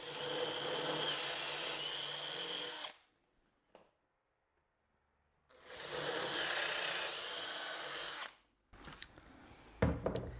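Two bursts of a power drill with a 9.5 mm bit grinding into wood to enlarge a hole, each lasting a few seconds with a quiet pause between, followed by light clicks and knocks.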